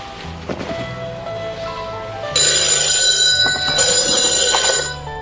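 A telephone bell rings loud and repeatedly from partway through, a bright, sustained trill over a soft musical background with a rain-like wash.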